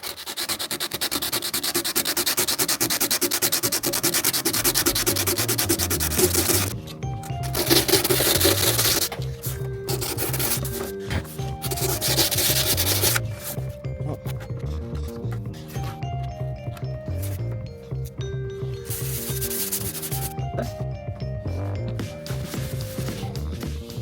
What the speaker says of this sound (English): So let's go take a small section of this, and we'll then sand up the spoiler.